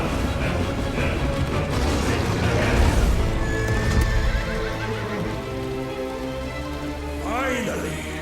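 Horse neighing and whinnying in the video game Final Fantasy XVI, with clip-clopping hooves and a rain-like patter, a voice talking over it and a final whinny near the end.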